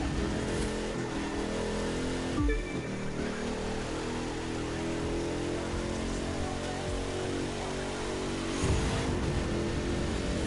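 A monster truck in the racing game The Crew 2 runs at full throttle while drifting: a loud, steady engine roar with a splashing, rain-like wash of water spray throughout, swelling briefly around midway and again near the end.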